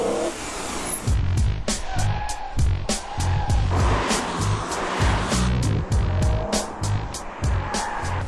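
A V8 414-horsepower BMW M3 driven hard, engine revving and surging in repeated bursts with gear changes and tyre noise, loud and close.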